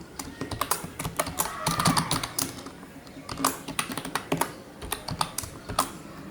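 Rapid, uneven keystrokes on a computer keyboard entering a password to sign in to an Apple account, close and clear with brief pauses between bursts and no talking.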